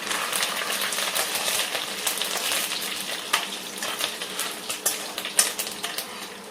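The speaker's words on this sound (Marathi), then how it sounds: "तेल गरम झालं की आपण खडा मसाला, जिरे, कढीपत्ता" Whole spices, cumin seeds and curry leaves frying in hot oil, a bright continuous sizzle with crackling pops and spits growing sharper toward the end, close and loud with no talking.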